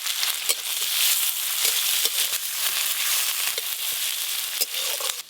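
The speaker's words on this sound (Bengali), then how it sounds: "পেঁয়াজ কুচিগুলো একটু ভালো করে ভাজা ভাজা হয়ে গেছে" Chopped onion fries in oil for a Bengali koi fish curry, giving off a loud, steady sizzle with scattered pops and stirring clicks, close and with no talking.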